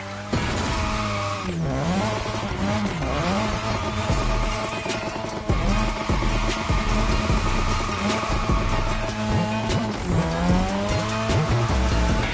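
A car drifts around a track in a racing video game, with a loud engine revving up and down continuously and long tire squeals rising and falling over it.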